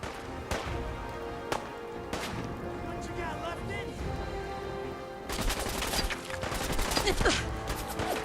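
Enemy gunfire in Fallout 4, sharp shots cracking now and then over a busy game soundscape, turning into a denser burst of fire near the end, with voices talking throughout.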